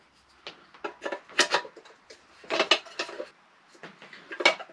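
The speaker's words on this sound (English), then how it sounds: "Lift that out, and you have your handles, which just click on like so." Metal handles click onto a motorcycle-camping cookware pan set, a quick series of sharp clinks and rattles of pots and utensils in several bursts, close and fairly loud.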